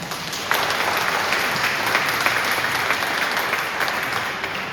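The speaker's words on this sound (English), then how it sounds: "So if you could give a round of applause." Audience applause at a Habersham History Talks gathering in a church, a steady wash of many hands clapping that swells sharply after half a second and holds loud and even throughout, with no talking over it.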